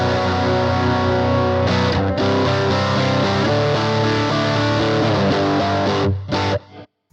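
An electric guitar plays through a ProCo RAT distortion pedal with the gain rolled up, a loud, continuous crunchy chord-driven riff with a thick sustained tone that cuts off abruptly near the end.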